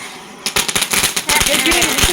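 Firecrackers go off during a Tulsi puja celebration: after a brief lull comes a rapid, loud string of sharp cracking pops, crackling continuously for well over a second.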